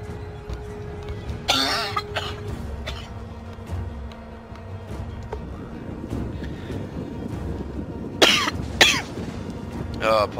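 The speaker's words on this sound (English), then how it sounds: "Oh, my cough's really got bad for all of a sudden." Harsh coughing bursts from a man playing a Total War: Attila campaign, two separate fits several seconds apart rising over the game's ambient battlefield sounds and music, close and loud.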